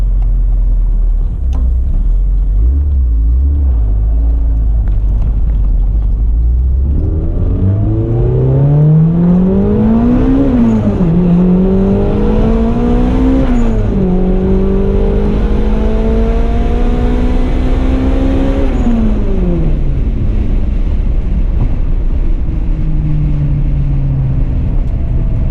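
Turbocharged Honda Integra with a manual boost controller pulling hard through several gears, engine pitch climbing, dropping at each shift and climbing again, loud and close from inside the car, ending in a quieter steady drone.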